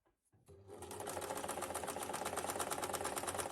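An electric sewing machine stitches scrap fabric for a drawstring bag in a steady, fast mechanical whir with rapid needle clatter, close and continuous after a brief start.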